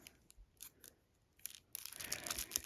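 Card packs from the Tiny Epic Game of Thrones board game torn open, first a few faint crinkles, then a denser, louder run of crackling plastic wrapper close by.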